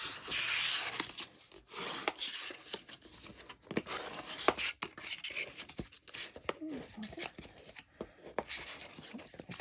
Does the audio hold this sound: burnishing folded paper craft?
yes